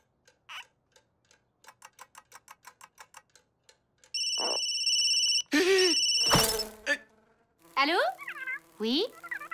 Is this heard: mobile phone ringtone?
yes